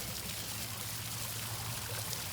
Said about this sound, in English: As you can see, we have a beautiful water feature in there.